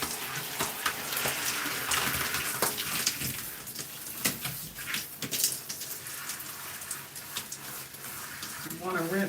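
Water runs and splashes while shampoo is rinsed out of hair during a wash-and-go routine, a close, uneven rushing with scattered spattering bursts that carries on throughout.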